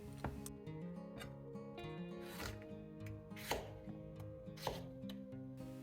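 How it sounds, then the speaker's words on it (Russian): A knife chops potatoes into large cubes on a cutting board in an uneven rhythm, sharp close knocks over a faint steady background hum. "Картошку нужно будет нарезать крупными кубиками."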